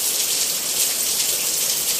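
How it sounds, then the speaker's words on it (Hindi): Heavy monsoon rain pours steadily in an Indian home setting during a power cut, a dense continuous hiss of drops drumming on surfaces, loud and unbroken throughout with no voices. "बारिश कितनी हो रही है देखो।"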